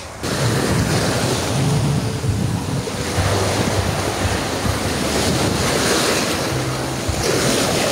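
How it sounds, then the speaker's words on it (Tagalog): Steady roar of ocean surf with gusting wind buffeting the microphone, loud and continuous throughout, with no voices. "medyo mahangin tsaka may alon"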